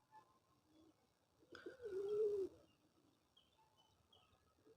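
A single soft pigeon coo sounds once, low and rounded, against a quiet background.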